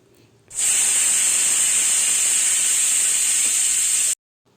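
A pressure cooker holding vangibath blasts out steam in one loud, sustained high-pitched whistle that lasts several seconds and then cuts off abruptly.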